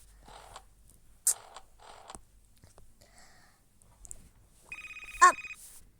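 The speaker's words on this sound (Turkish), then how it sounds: "Arkadaşlar zil çalıyor bu arada." Scattered creaks and clicks, then a short electronic phone ring tone sounds near the end, clear and close.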